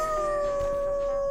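A dog in the video game Flipping Death lets out a steady, loud, sustained howl on one held pitch that fills the whole moment, with no talking.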